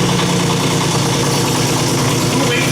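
A Kubota tractor engine idles steadily at close range, a constant low mechanical rumble with vibration, no distinct start-up crank heard.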